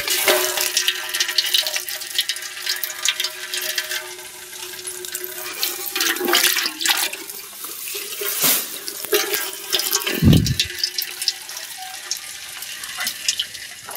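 Children splash river water with vessels, a continuous loud rush and slosh of water with irregular splashes and a deep plunging thump, no voices.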